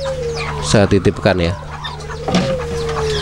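Poland hybrid chickens, crossed with kate and serama bantams, cluck softly near the microphone while someone speaks over them, with a few sharper clucks standing out between his words.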